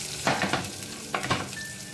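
Finely chopped green chili frying in a hot pan, a steady soft sizzle with a few sharper bursts of crackle and stirring scrapes, close and with no voices.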